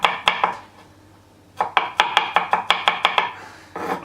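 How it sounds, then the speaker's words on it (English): A sharp knife chops fresh garlic cloves on a board, a few strokes, a pause, then a quick run of about ten even, crisp knocks, close and clear. "I use my way of chopping"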